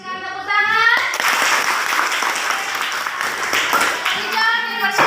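Classroom applause from a group of children, a dense burst of clapping lasting several seconds, with voices just before it starts and again as it fades.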